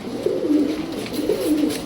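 Kaldam pigeon, a male of the Indian Kaldam breed, cooing in two steady rolling phrases, close and clear with faint background noise and no talk.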